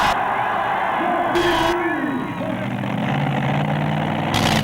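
A pulling tractor named Simply Irresistible idles at a 1999 tractor pulling competition, a steady low engine rumble beneath crowd noise with a commentator talking over it.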